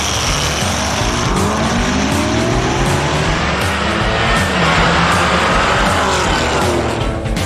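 Drag race at Roadkill Nights involving a Dodge Viper, a loud, sustained engine roar with shifting pitch and brief tire squeal, steady and close throughout without talk.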